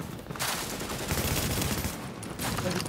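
Explosive-round gunfire in The Division rattles in a dense, loud, sustained fusillade of rapid shots with brief breaks, close and harsh with no voice over it.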